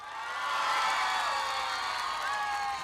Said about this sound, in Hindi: परफॉर्मेंस अच्छी लगी तो मिलके ताली होनी चाहिए।